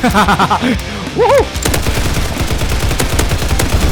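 Rapid gunfire in the Roblox shooter Hypershot, a fast steady stream of shots running through most of the moment, with a voice talking over it early on.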